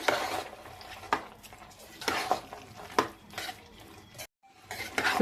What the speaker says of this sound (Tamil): இந்த ஸ்டேஜ்ல நம்ம தாளிப்பு சேர்த்துடலாம். நல்லா கலந்து விட்டுறலாம்.